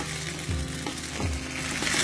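Boiled penne pasta, half a packet seasoned with salt and black pepper, fries in a hot pan. A steady sizzle runs throughout, with a couple of soft stirring scrapes and no voices.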